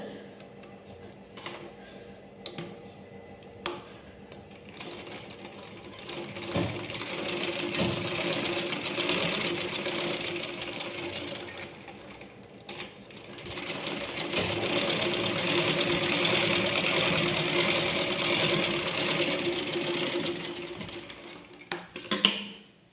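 A sewing machine stitches after its tension disc is adjusted, running in two sustained loud stretches of rapid mechanical clatter, separated and preceded by quieter ticking and handling clicks, close up with no speech.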